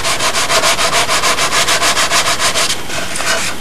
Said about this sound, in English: As I'm sanding, I'm twisting the dowel, so I'm picking up a new piece of sandpaper as I go along.